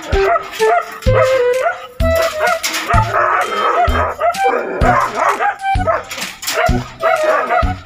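Several large dogs bark loudly and repeatedly at close range, deep woofs mixed with higher yips, whimpers and a howl, in uneven bursts over a noisy household background with people faintly talking.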